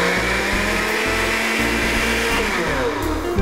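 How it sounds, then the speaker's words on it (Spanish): A blender whirs loudly and steadily making sesame seed parmesan, its motor pulsing in short repeated surges as it churns. "para que la licuadora pueda hacer su trabajo"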